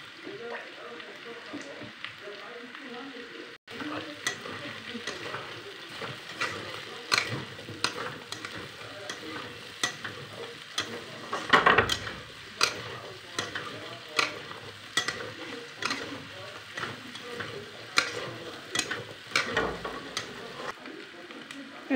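Meat fries in a pan with green chili just added for an Assamese meat dish, a soft continuous sizzle broken by regular scraping stirs and clicks of the spatula, close and fairly quiet.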